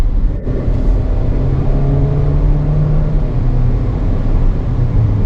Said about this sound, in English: It's a small displacement 4-cylinder, so you're gonna get that engine noise